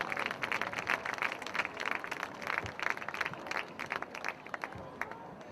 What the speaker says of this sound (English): A big hand of applause for JJ as he comes forward as well to receive his prize.